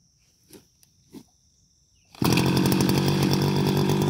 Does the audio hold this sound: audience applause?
no